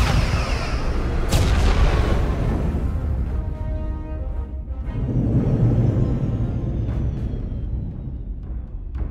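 Starship weapons fire in the Star Trek Resurgence video game: a sharp blast followed by rumbling booms and sweeping energy tones, loud and layered in a continuous battle mix without speech.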